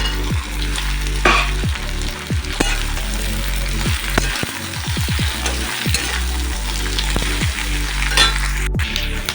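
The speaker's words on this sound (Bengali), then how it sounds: "তো এখন এই ডাঁটাটা আর বেগুনটা দিয়ে দেবো।" Drumstick stems and eggplant sizzle steadily in a hot pan, with repeated spoon or spatula scrapes and clinks against the metal as the vegetables are stirred. The sizzle is close and constant, and no one speaks.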